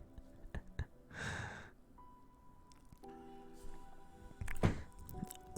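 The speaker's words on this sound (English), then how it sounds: "my stupid chair makes banging noises" A desk chair gives off a few sharp banging thunks amid quiet room noise, with one heavier knock near the end and soft lighter bumps scattered between.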